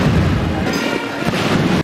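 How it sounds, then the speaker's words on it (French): Cannon fire from a 21-gun salute for the president of Zambia at a military ceremony, a dense, loud, continuous rumble of booms filling the whole stretch with no talk over it. "21 coups de canon."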